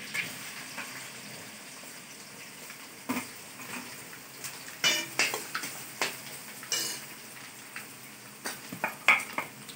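Onions and chillies frying in a pan for kande pohe, a soft background sizzle punctuated by a series of irregular metallic clanks and scrapes of a utensil against the pan, growing busier in the second half, no speech.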